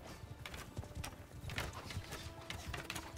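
Horse hooves clip-clop in the medieval fantasy game Bannerlord Realm of Thrones during a battle, a fast irregular patter of hoofbeats with clashing noise around them. A faint whinny may be mixed in.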